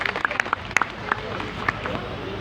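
An audience at an Indian welcome event applauds its guests with scattered, fairly close claps spread across the moment, over a background of crowd murmur and speech.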